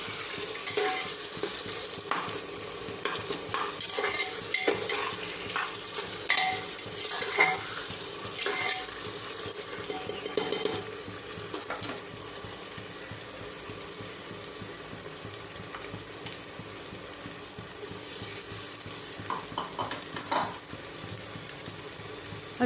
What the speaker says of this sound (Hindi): अच्छे से टमाटर को हम भून लेंगे।